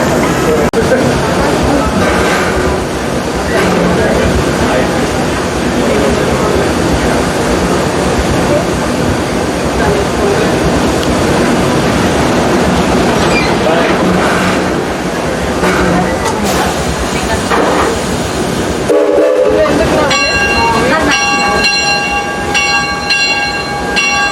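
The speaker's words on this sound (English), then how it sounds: "That's the Railroad train with us." Six Flags Railroad amusement park train rumbling steadily along the track, a continuous rolling roar with a horn-like tonal blast toward the end; voices are faintly present.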